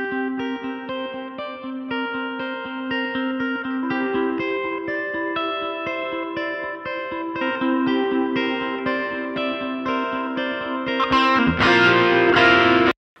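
Clean electric guitar parts played through a Line 6 Helix preset, layered over a steady bed of sustained chords that swell louder near the end, with no talking.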